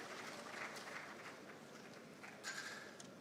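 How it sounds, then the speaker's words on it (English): Audience applause at an engineering conference in Ibadan: a faint, distant wash of clapping from a crowd in a hall, steady throughout with a brief swell near the end. "Can we put our hands together, please?"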